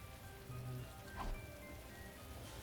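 Rain pouring steadily in a video game, a dense even hiss of drops on surfaces with a faint tonal background, no voices.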